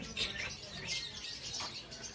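Parakeets chirp at a busy bird market, with rapid high tweets overlapping through a steady crowd murmur and a short thump at the end.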